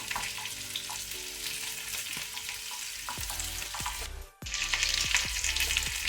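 Chopped garlic and ginger sizzle steadily in hot oil in a pan, with scraping stir strokes and a brief dip before a louder, brighter burst of frying.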